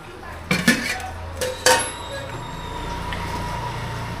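Cooked lunch dishes being served out: a few loud close clanks and scrapes of metal serving utensils against pots, then a quiet room hum with a faint voice.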